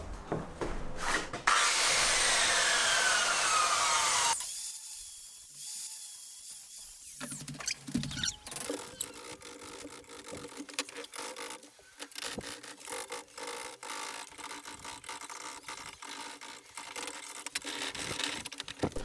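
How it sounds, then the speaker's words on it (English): A circular saw set to an 8mm depth cuts a notch out of a length of timber for framing an angled ceiling in a filled-in veranda: a loud, bright cutting whine, a pause, then repeated rasping passes and scraping. "I've set this saw up to an 8mm depth so we can cut this notch out of the timber."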